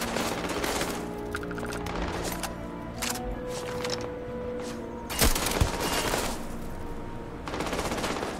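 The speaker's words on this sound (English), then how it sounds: "This guy's really shooting at me." Bursts of rapid automatic enemy gunfire ring out in the sci-fi shooter Starfield, sustained volleys with sharp individual shots and a heavy boom, loud and close, with no talking over them.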